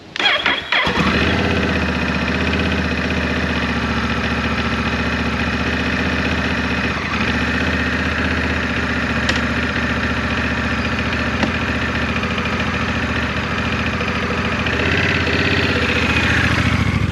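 A Honda Rebel 1100 motorcycle engine cranks and fires up abruptly, then settles into a steady, close, rumbling idle that runs on without talk.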